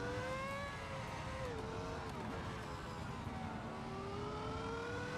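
A Formula 1 race car screams around the Nürburgring in a racing video game, its engine note rising and falling steadily and continuously up close, with the rear tires spinning under power.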